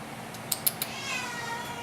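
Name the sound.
cat meowing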